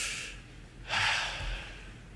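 A congregation at a sermon breathes together during a breathing exercise: a soft exhale fades out, then a louder shared breath swells and slowly tapers.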